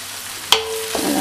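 Chopped egg with coriander and mint hits a hot pan with a sharp clatter, followed by a sustained sizzle and a bit of scraping as it sautés.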